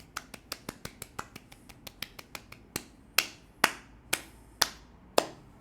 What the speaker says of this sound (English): So let's give it a clap.